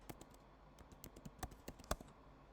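Quiet clicks of keys being tapped on a computer keyboard, an irregular run of light strokes with one sharper hit, close by in an otherwise still room.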